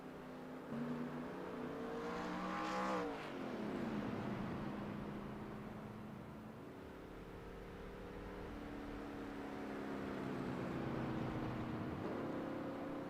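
Stock car engines roar in a 1987 Darlington 250 sim race, a pack of cars revving and shifting together with a rising swell and pitch swoops as they launch from the start, loud and continuous throughout.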